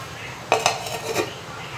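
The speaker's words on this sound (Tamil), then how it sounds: "நம்ம கையில் நான் ஸ்டிக் கரண்டியாக இருக்குது இது மாதிரி வச்சுங்க கூட நம்ம கூழை இந்த மாதிரி கிளறி விட்டுக்கலாம்" A non-stick ladle stirs ragi porridge in a pot, producing a few brief, close scrapes and light clinks against the pot over low background hum.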